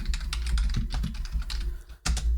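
Rapid computer keyboard typing while entering Forth code for a TCP client, a dense run of close, crisp key clicks, steady throughout with a brief pause near the end before a final burst.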